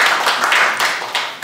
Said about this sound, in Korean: 환영의 박수를 보냅시다